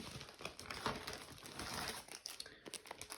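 A plastic bag of craft supplies crinkles and rustles as it is handled up close, with continuous soft crackling and brief sharper crumples at low volume.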